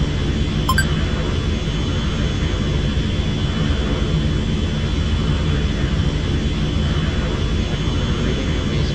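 Engine of an L-39 Albatros jet at 70 percent throttle: a steady, loud broadband roar with a constant whine runs unchanged throughout and masks everything else.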